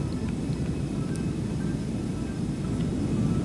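A Lion Air Airbus A330-900neo airliner mod in the GTA 5 video game drones with a steady, dense low engine roar that stays even throughout, with no talk.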